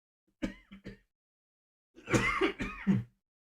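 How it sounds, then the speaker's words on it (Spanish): Two short coughs, a brief pause, then a longer run of several harsh coughs, close and fairly loud, with silence between. "todavía nos da tos"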